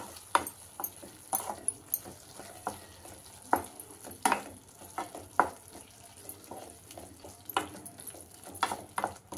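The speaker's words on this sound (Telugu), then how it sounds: "ఇట్లా కలియబెట్టి చూడండి, టమాటా కూడా ఉడికిపోయింది" Soft, steady sizzling of a tomato and fenugreek curry in a pan with repeated scraping clicks and knocks of a spoon stirring, irregular and close by.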